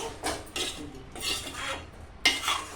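Chicken curry with added water stirred in a pot: a spoon scrapes and clinks against the vessel in several rhythmic strokes, close and moderately loud, with faint simmering behind and no talk.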